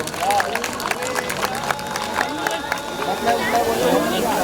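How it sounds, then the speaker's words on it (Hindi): Crowd applause at a community picnic gathering, steady clapping from many hands mixed with crowd babble and voices talking throughout. "इसके लिए इससे भी ज़्यादा ज़ोरदार तालियां होनी चाहिए।"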